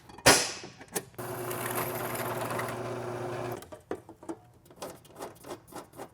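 A power tool drives a screw to fasten a board in place during a Ghostbusters proton pack build, a sharp burst, then a steady whirring drive lasting a couple of seconds, followed by a few scattered clicks and knocks.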